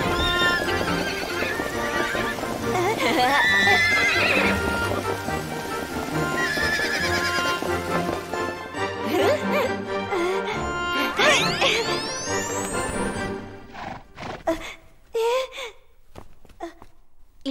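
Palace horses neigh and whinny loudly several times as hooves clip-clop, with rain and music in the background, near and busy at first before thinning into scattered sharp sounds and quieter gaps.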